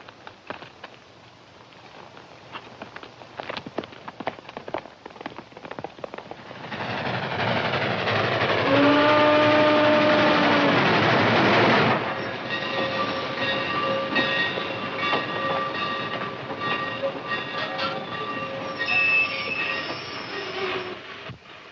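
A steam train rolls in with a steady heavy rumble, then wheels squeal and tonal whistling notes rise over the clatter as it slows nearby.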